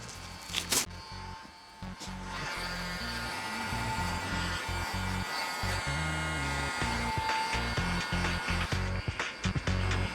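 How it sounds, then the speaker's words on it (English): A heat gun blows steadily on a decal stuck to a Mercedes A45 AMG, a continuous airy whoosh and whine lasting the whole time, with light scraping and handling noises near the start. "What I'm going to do while I've got the heat gun is warm that James Agger Auto Sport sticker up"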